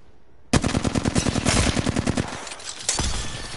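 Rapid automatic gunfire from a weapon in the video game Apex Legends, a loud sustained burst of closely spaced shots that pauses briefly and then resumes, with no talk over it.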